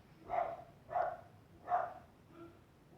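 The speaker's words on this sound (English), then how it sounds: "My dogs are barking now." Dogs bark three times at an even pace, followed by a softer fourth sound, fairly faint and somewhat distant.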